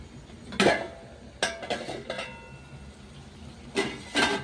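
A few sharp metallic clanks and clinks come as a lid is set onto a cooking pot of prawns and ridge gourd on a kitchen stove, with scattered knocks and a quiet background between them.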